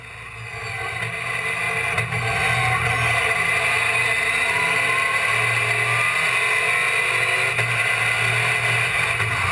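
Onboard a RACECAR Series race car at Zandvoort, the engine roars loud and steady during a rolling start, with a constant droning whine and rushing wind noise.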